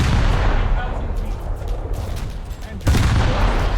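Destroyer naval guns firing in a naval combat video game, a dense barrage of loud booming salvos layered over continuous battle rumble, with a fresh heavy volley near the end.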